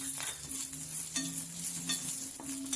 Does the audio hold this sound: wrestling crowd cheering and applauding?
no